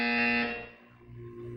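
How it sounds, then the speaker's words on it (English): A harsh, tonal buzzer from the Portal 2 game sounds once, loud and close, then fades and is followed by a softer lingering hum, with no speech. "You will hear a buzzer."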